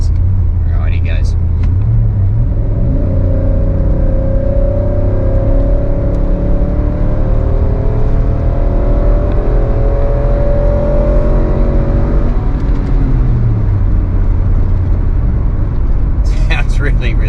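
A Nissan Y62 Patrol fitted with a Torqit cat-back exhaust kicks down and accelerates at full throttle from cruising speed, the engine droning and rising steadily for about ten seconds before easing off, heard from inside the cabin.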